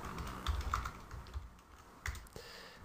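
A computer keyboard being tapped for a shortcut, a few quiet irregular clicks and key presses up close, with faint room tone between them.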